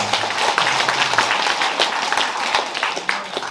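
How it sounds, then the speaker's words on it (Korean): An audience at a book launch event gives a round of applause, with loud, dense, overlapping clapping from many hands in an indoor hall. "저를 도와주시는 큰 어른께 박수 한번 부탁드리겠습니다"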